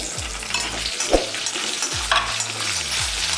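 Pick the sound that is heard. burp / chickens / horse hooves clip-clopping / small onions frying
small onions frying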